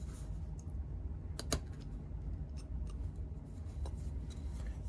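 Knife carving white cedar wood against a stop cut on a small Santa figure, producing quiet scattered scraping and crisp clicking cuts, a few sharper snaps standing out over a soft low background hum.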